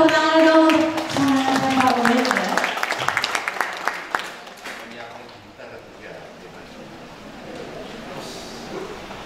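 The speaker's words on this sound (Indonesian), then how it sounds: "Boleh kita berikan tepuk tangan dong." An audience applauds at an Indonesian book launch for a profile of Yogyakarta sculptors, clapping rising and then fading out under a speaking voice and room murmur.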